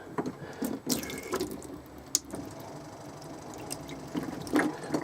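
A tap at the sink of a 1995 Swift Corniche four-berth touring caravan runs water, making a steady close hiss with a few knocks and splashes. No one speaks.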